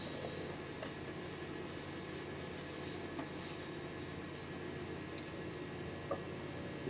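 A small air-driven turbine spins steadily with a faint whirring drone, slowing gradually once its compressor is switched off; the sound is quiet, continuous and has no talk over it.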